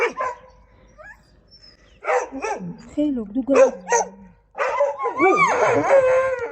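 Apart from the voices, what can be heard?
dogs barking and yelping during a dog fight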